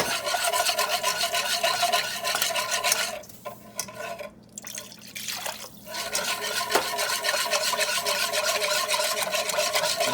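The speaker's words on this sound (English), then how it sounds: "Just keep that whisk moving." Broth is whisked into a roux for gravy, producing a steady, close, rapid scraping and sloshing of a whisk against the pan that briefly pauses midway before resuming.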